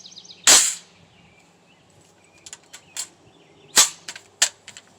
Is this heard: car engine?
no